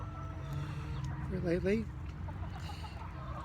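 Heritage breed chickens on a Northern California property give a brief burst of clucking calls over a low background hum, while someone talks nearby.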